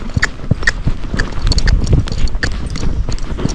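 A gaited horse's hooves clip-clop in a quick, even four-beat saddle gait up a hill on a trail, the steps loud and close with faint creaks between them.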